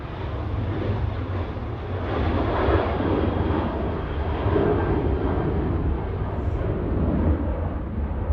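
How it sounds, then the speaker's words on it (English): KLM airliner on flight 1028 to Amsterdam taking off from Manchester Airport, a heavy jet engine roar swelling and rolling in waves, loud and near, with no speech. "KLM 1028 to Amsterdam."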